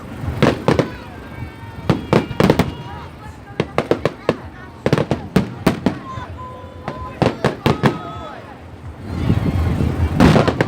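A Worcester fireworks show, heard as sharp explosive bangs in irregular clusters and rapid crackling volleys at moderate distance, building into a dense rumbling barrage at the end, with people talking in between.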